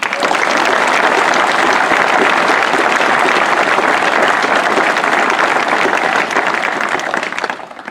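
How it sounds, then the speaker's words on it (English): Sustained, dense applause from a crowd at an officer candidate school graduation ceremony, loud and even throughout with many hands clapping at once, then tapering off at the very end. "Please give these officer candidates a well-rounded deserved applause"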